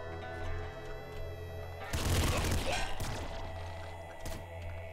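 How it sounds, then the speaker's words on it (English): A super plasma cannon fires at the throne in the Nuclear Throne video game: one heavy, booming thud-burst that crackles for about a second, then settles back into a low game hum. "The super plasma cannon."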